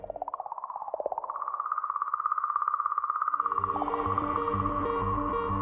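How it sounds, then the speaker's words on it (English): Sonified whistle-like song of comet 67P, an eerie warbling tone that rises and holds with a fast throbbing pulse, later joined by a layered droning hum underneath. "So now you can hear the eerie, whistle-like song of 67P, singing comet."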